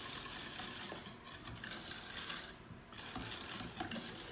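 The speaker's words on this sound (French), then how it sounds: "Et on fouette." A whisk beats lemon square batter with lemon zest and juice in a bowl, a steady, fast scraping rhythm that continues without a break, close and fairly quiet, with no voices.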